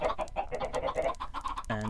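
Minecraft chickens in a game chicken farm clucking in a busy, overlapping stream of short repeated calls, close and fairly loud, with a sharper squawk at the very end.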